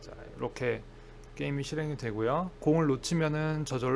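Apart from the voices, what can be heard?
None of the usual background noises is heard.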